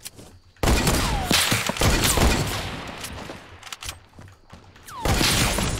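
Sniper rifle fire in a Fortnite sniper shootout match, with sharp broadband shots and bursts of gunfire cracking loudly through busy game noise, two strong blasts near the start and end.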